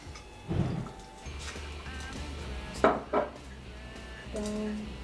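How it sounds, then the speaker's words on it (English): Pots and pans clank as a pan is pulled out in a home kitchen, a few sharp metallic knocks and rattles spread over several seconds against quiet room noise. "I'm just gonna get a pan"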